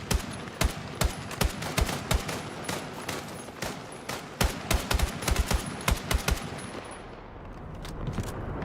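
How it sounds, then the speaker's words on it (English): A hostile machine gun fires in a Battlefield 6 battle royale match, with rapid, loud bursts of sharp shots in uneven clusters that rattle on for several seconds before trailing off into quieter distant ambience. "Hostile machine gun in sight."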